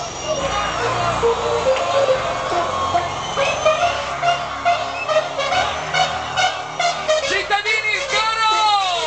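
Crowd at an Italian Ferragosto summer gathering chanting a chorus together, with rhythmic rising shouts and hand claps in time, loud and lively with background babble and a horn-like toot.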